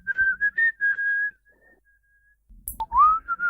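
A person whistles a bright melodic tune on a French radio show, with sustained notes and short phrases, a pause, then a sliding rising whistle near the end.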